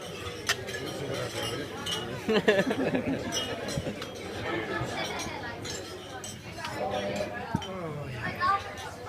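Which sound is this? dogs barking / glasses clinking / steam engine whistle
glasses clinking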